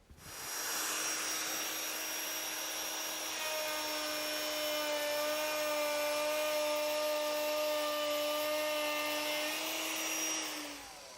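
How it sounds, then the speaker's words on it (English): A hand router spins up and cuts along the face grain of a wooden board, one sustained high whine holding steady for about ten seconds before winding down, close and alone. "When you're routing, always route counterclockwise with a hand router, starting with end grain and then going around that board"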